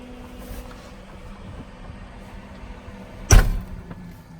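The roof motor of a 2020 Palomino SS 500 truck camper hums low and steadily as the roof lowers, then a single heavy thud lands, followed by the hum continuing quietly.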